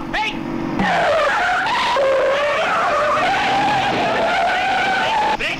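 Tires squeal long and loud as a car brakes hard and skids in a Hindi film chase scene, a sustained wavering screech lasting several seconds, close and harsh, with a brief shout at the start.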